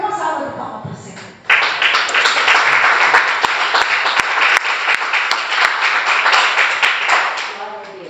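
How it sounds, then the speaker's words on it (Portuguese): A church congregation bursts into loud, sustained applause during a worship service, clapping densely and continuously after a quieter start, with voices mixed in. "Dê uma salva de palmas para o Senhor."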